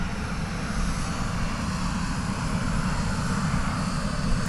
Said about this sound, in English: here comes a 737-800 bound for Austin, flight 1060